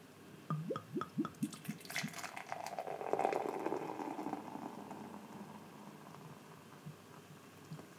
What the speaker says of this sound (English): So let's pour this one.